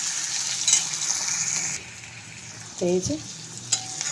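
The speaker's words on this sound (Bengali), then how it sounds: "পেঁয়াজটা ভাজা হচ্ছে" Onion frying without added oil in a pan for a tengra fish curry, a steady sizzle with stirring scrapes and a brief clink, while a person talks briefly over it.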